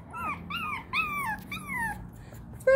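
A small Lhasa Apso puppy, six weeks old, whimpers and whines in several high, wavering cries, close by, ending with a short sharp yip.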